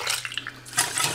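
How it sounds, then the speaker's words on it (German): About 400 ml of water is poured into a kitchen bowl for a lentil flatbread mix. A few light clinks come first, then a short burst of splashing. No voice is heard. "Da könnt ihr dann gleich mal die 400 ml Wasser dazugeben."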